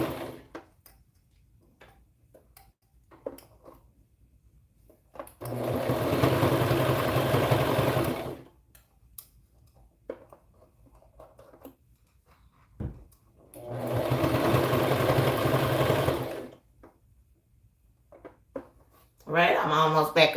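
A sewing machine runs in two steady bursts of a few seconds each while stitching tiny preemie shorts, separated by quiet stretches with a little talk.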